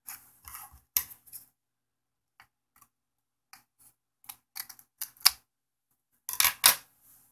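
Scissors snip through the flat cable of a TI-83 Plus calculator in a series of sharp, close cuts, scattered irregularly with short pauses and a denser cluster near the end.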